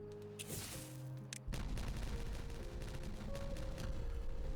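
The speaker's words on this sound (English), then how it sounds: "Another lovely big explosion" A big explosion goes off in the beaver colony-building game Timberborn: a few faint pops, then a sustained rumbling, crackling burst that stays fairly quiet throughout.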